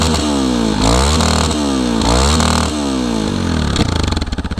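A Yamaha Tricker motorcycle with an aftermarket muffler, freshly fitted with a new spark plug, idles and revs steadily close by, its engine rising and falling in repeated blips with crackling afterfire near the end.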